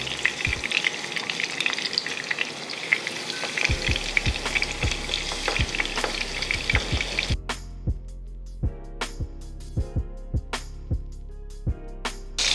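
Salmon fillets searing in a hot skillet, a loud crackling sizzle with sharp pops that suddenly drops to a quieter sputter halfway through, with repeated thuds continuing over background music.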